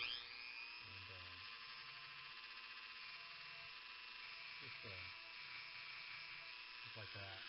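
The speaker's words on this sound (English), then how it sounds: "So I go ahead and take a little stone burr on a Dremel." A Dremel rotary tool fitted with a small stone burr grinds at a urethane-finished bass guitar body, giving a steady high whine that runs throughout, with brief pitch dips as the burr meets the surface.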